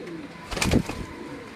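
Pigeons coo on a rooftop in a short, soft burst over steady background hiss. The call swells and fades within about a second.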